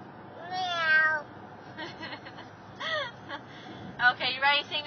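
A young child imitates a cat, giving several drawn-out meows with rising and falling pitch, the first long and clear, then shorter calls after pauses, close and fairly loud.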